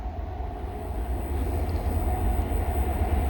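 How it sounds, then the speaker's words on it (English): A train approaches on railroad tracks near a right-of-way grave site, a steady loud low rumble that swells slightly as it draws nearer, with no talk. "Sounds like we're gonna hear a train coming right now."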